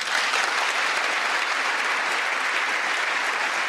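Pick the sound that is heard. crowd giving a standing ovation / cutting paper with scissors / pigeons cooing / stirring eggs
crowd giving a standing ovation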